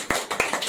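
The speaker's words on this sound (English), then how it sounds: "Round of applause." A studio audience welcomes a guest onto a talk show about construction and property maintenance with a few quick, light handclaps, close and brief.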